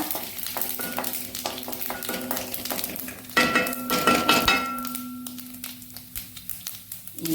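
Mustard, fenugreek, cumin and sesame seeds crackle and fry in a pan, with a steady sizzle broken by stirring scrapes and metal clinks of a spoon against the pan, louder stirring bursts in the middle.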